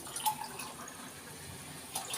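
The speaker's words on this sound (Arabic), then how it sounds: "جايبين ميه اهي" Water is poured into a pan while preparing grilled fish at home, a faint, soft splashing trickle with a couple of brief louder splashes and no talk.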